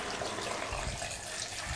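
Water pours steadily into a lemon juice drink, a continuous splashing trickle heard close up without any talk.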